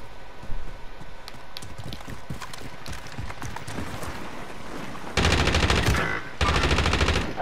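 Automatic gunfire in the video game Call of Duty: Modern Warfare rattles in two long, loud bursts near the end. Scattered lighter shots and footsteps come before them.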